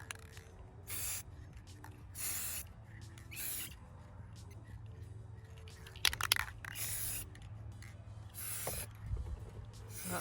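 Spray paint hisses onto a homemade graduation yard sign in several short, separate bursts, each a soft airy rush, with quiet gaps between them.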